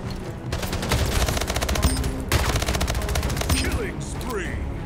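Rapid SMG fire in the arena shooter Splitgate rattles off in dense, sustained bursts with brief pauses, loud and close, layered with game effects.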